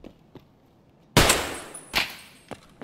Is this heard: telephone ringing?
no